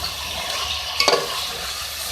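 Chicken curry being stirred in a pan with turmeric powder added, a steady scraping stir over a soft sizzle, with a brief louder clatter near the middle and no talk.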